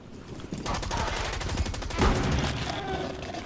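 Gunfire in the shooter Rainbow Six Extraction, including an unsilenced shotgun, heard as a quick volley of sharp bursts with one heavier blast near the middle, under a noisy mix.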